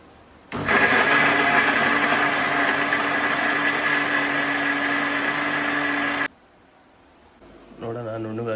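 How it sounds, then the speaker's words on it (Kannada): A mixer grinder (mixie) runs loud and steady for about six seconds, grinding cumin, garlic and spices for bassaru with no water added, then cuts off abruptly, followed by a short quiet gap and then a voice. "ಮಿಕ್ಸಿ ನಾನೇ ಸ್ವಲ್ಪ ಹಾಕ್ಕೊಡ್ತಾ ಇದ್ದೀನಿ ಇವಾಗ."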